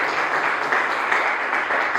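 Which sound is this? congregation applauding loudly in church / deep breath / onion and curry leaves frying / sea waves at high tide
congregation applauding loudly in church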